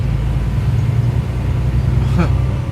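Traffic on the Paris Périphérique ring road, heard as a continuous low rumble of cars and trucks from inside a truck's cab, with a voice speaking over the steady roadway noise.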